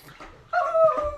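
A dog whimpers and yips nearby, a short rising whine with a couple of tonal cries, fairly loud and close, with no talk over it.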